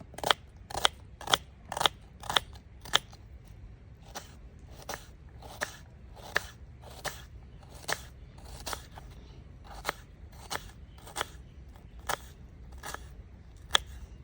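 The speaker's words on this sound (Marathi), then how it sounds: "त्यासाठी आधी आपण कांदा बारीक चिरून घ्यायचा आहे" A knife finely chops onion on a board, giving a steady run of crisp, sharp cuts that come quicker at first and then space out a little, close and fairly quiet with nobody talking.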